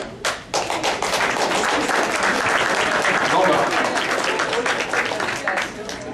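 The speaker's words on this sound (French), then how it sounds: "j'aimerais ça aussi qu'on les applaudisse, ceux-là qui sont venus ici" A crowd at a live community event applauds newcomers. The clapping is loud and close, with dense rapid hand claps that run steadily for several seconds and thin out slightly toward the end.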